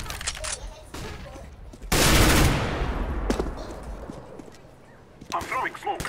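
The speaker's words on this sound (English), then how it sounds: "I'm throwing a flashbang." A flashbang grenade goes off in CS:GO as a sharp, loud bang about two seconds in, followed by a long fading hiss, with crackling gunfire-like game noises and short clattery bursts before and after.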